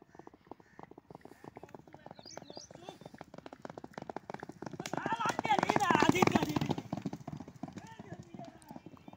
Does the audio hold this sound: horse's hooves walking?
yes